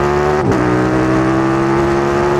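A new motorcycle being run in before its first service revs to about 6500 RPM, a steady, loud engine drone with strong harmonic tones, holding a high rev with a brief dip and surge near the start.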